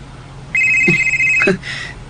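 A cellphone rings with a short electronic tone: a sustained bright ring lasting about a second, then a briefer, softer repeat. It sounds close and plays alone, with no talk over it.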